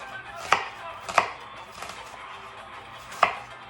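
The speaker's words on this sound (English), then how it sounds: "I'm gonna be chopping up the onions for my gravy for the fried fish" Knife chopping onions on a cutting board for a fried fish gravy, four sharp, irregularly spaced thuds over quiet kitchen background.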